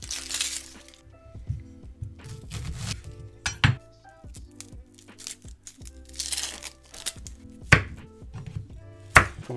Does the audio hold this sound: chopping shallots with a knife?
yes